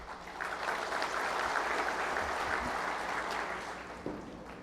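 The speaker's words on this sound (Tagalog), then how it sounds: "dahan-dahan lang sa palakpak, baka hindi na tayo matapos dito" Applause from an audience at a Liberal Party oath-taking ceremony for new members in Pampanga, a steady wash of many hands clapping in a hall, fading slightly toward the end.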